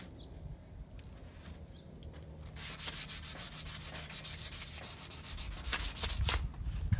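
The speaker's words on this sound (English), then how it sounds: "I started sanding on the top." Quiet scratchy rubbing of sandpaper on an old gas pump, sanding off paint in uneven strokes, with faint birdsong in the background.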